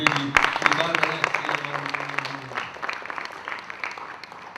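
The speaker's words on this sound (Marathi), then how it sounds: "सभागृहात टाळ्यांचा गजर होतो" Applause from an audience in an auditorium at a book launch ceremony, a dense burst of clapping that starts loud alongside a droning tone and gradually thins and fades over a few seconds.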